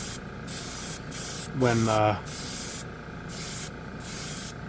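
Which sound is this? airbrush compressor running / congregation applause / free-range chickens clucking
airbrush compressor running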